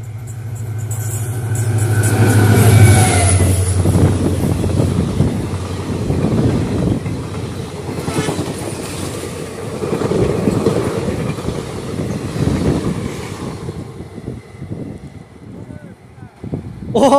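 The Dibrugarh–Rangiya Express passenger train roars close by, a heavy rumble with rhythmic wheel clatter and wind buffeting the microphone, fading as it moves away.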